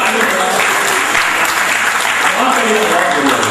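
Applause from the audience at a Hindi comic poetry gathering (hasya kavi sammelan): a dense, steady wash of clapping that stays loud and close for the whole stretch, with some faint voices underneath.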